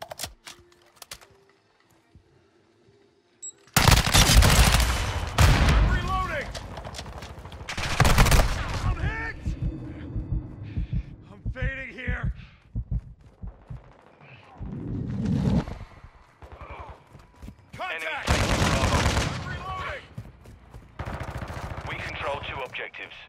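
Gunfire in Call of Duty: Modern Warfare II, with loud bursts of automatic weapon fire and single shots in repeated volleys, interspersed with quieter gaps, clicking and shouted voice callouts.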